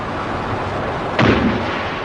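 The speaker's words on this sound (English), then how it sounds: "these aircraft bombed and strafed the fleet sitting in the bay" A single sharp blast from the 1982 Falklands air attacks, when fighter bombers bombed and strafed the British fleet in the bay, bursting over a steady hiss with a short rumbling tail.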